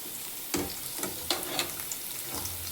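Chili bajji, battered green chilies, frying in hot oil: a steady crackling sizzle with occasional sharper pops, close up and continuous.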